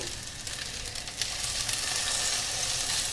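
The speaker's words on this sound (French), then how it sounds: "je ne vais pas en mettre trop dans la poêle parce qu'après ça va être difficile à retourner" Salmon and quinoa patties fry in a pan with a steady, close sizzle that holds for a few seconds and swells slightly louder partway through, with no voices.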